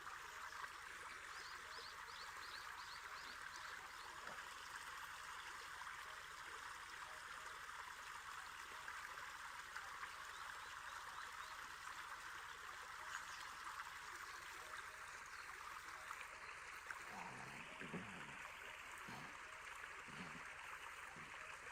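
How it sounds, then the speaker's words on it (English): Steady flowing water ambience of a 3D virtual space, a continuous soft stream-like rush filling the background at low level, with a few faint bumps near the end. "Do you hear the water?"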